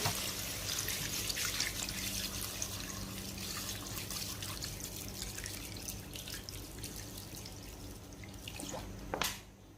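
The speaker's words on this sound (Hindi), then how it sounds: "अब इसके अंदर शामिल कर देते हैं पानी।" Water trickles steadily into a pot of mutton curry with browned meat and spices, a continuous close splashing and dribbling that runs for several seconds with faint clinks, then a brief louder knock near the end.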